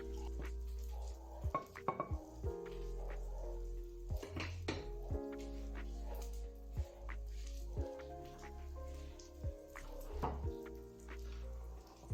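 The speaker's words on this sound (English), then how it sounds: "That's why I'm actually stirring my stock now again." Stock is stirred in a pot, with faint intermittent clinks and scrapes of a utensil against the metal over a quiet hum, soft and sporadic with no speech.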